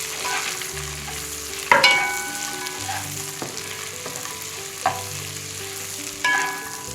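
Onion frying in butter with cumin in a pan, a continuous close sizzle broken by several sharp scraping stirs and clinks of the utensil, with no voices.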